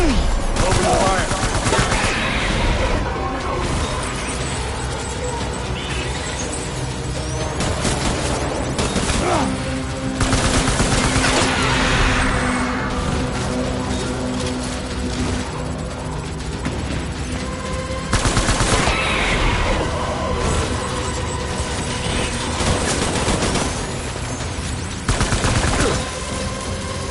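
Soldiers in Death Stranding open fire in long, loud bursts of automatic gunfire, repeating in heavy waves with short gaps between them and no talk over the shooting.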